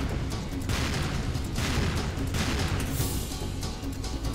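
Heavy gunfire and explosive booms from the video game Serious Sam 2, dense and continuous with broad rumbling bursts swelling around the middle and near the end, loud throughout with no clear talk.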